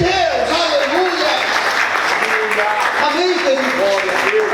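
A church congregation applauds in a steady wash of clapping that holds loud throughout, while a preacher's voice carries over it.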